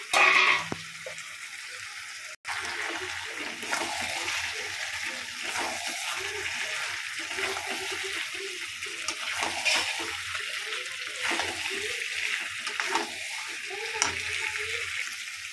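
Mutton with fried potatoes sautéing in a pan, giving a steady sizzling and frying hiss with soft stirring scrapes throughout, close and continuous with no talk.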